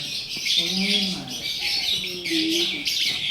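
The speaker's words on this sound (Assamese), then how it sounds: "ইয়াতে চাওক ভেৰাইটিজ চৰাই আছে" A busy chorus of many birds chirping and tweeting close by in a zoo aviary in Darjeeling, mixed with lower cooing calls, continuous throughout.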